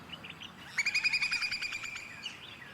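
A whimbrel gives a quick series of clear, rapid whistled notes during migration, outdoors and fairly faint, with a few softer chirps before and after.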